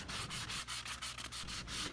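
Steady rhythmic scratching of a sanding sheet rubbed back and forth across a solid wood raised door panel, close and continuous.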